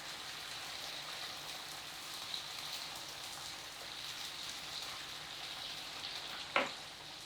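Chili sambal bajak ingredients sauté in hot oil in a home kitchen, a constant soft sizzling and crackling hiss, with a single sharp knock of a utensil near the end.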